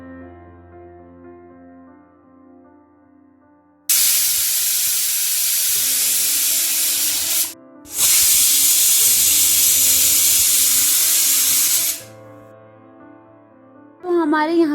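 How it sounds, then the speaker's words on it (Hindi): A pressure cooker boiling gethi on a kitchen stove releases a loud, steady hiss of steam that bursts on suddenly, pauses briefly, then resumes for several seconds before cutting off. "तो मैंने इसको कुकर में बॉईल होने के लिए रख दिया है।"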